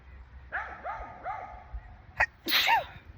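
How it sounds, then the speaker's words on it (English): One sharp, loud sneeze bursts out near the end, set off by bone meal dust, after a few soft whimper-like vocal sounds, close to the mic. "going to sneeze"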